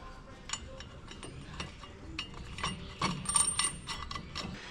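Faint metallic ratcheting and clicking as nuts are tightened on a Bilstein rear shock of a 2022 Toyota Tacoma, an irregular run of small mechanical turns that gets a bit busier near the end, with no speech.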